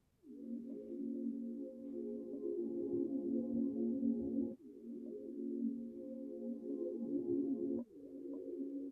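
A dark R&B glue synth layer holds a soft, low sustained chord that swells in and stays steady, then changes twice with quick retriggers, playing alone at a modest level.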